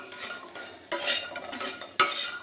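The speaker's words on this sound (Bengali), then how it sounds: "আমি যেই তেলে মাছ ভেজেছি ওই তেলে আমি বড়িগুলো দিয়ে নেব।" Lentil dumplings (bori) stirred in oil left over from frying fish, with scraping and clinking of a utensil against the pan over a soft background sizzle, two sharper knocks marking the stirring.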